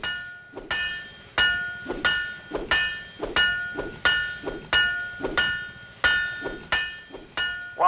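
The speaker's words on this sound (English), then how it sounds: "You have to repeatedly hit the part you're buffing before it takes effect." In the Guns of Icarus video game, a tool repeatedly strikes a ship part to buff it. The result is a steady series of about a dozen ringing metallic hammer clangs, evenly spaced roughly every half second, loud and close with no talking.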